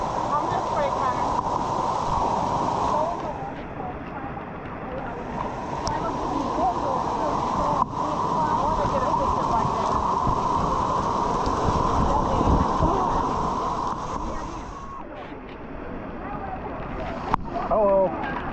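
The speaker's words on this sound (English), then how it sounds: "We're swimming in a waterfall in Hawaii." Waimea Falls in Hawaii pours continuously as a broad rushing roar of water, loud and close, with people talking and calling out over it and a brief dip near the end.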